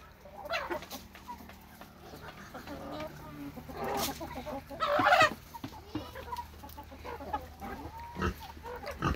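Farm chickens of Leghorn, Australorp and New Hampshire breeds clucking and squawking in a busy yard, a continuous mix of nearby clucks and occasional louder squawks amid rustling and background noise.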